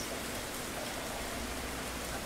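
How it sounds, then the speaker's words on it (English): Steady rain falling heard from a sheltered spot, a soft, even wash of drops that holds constant throughout with no voices. "listening to all the sounds of the rain from a protective, safe place"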